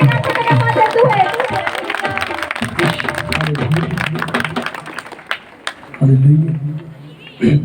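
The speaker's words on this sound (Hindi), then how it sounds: "लीजिए जोरदार तालियों के साथ परमेश्वर के नाम का धन्यवाद देते हुए" A congregation at a worship gathering claps loudly in a dense burst of applause, with a voice speaking over and through the clapping.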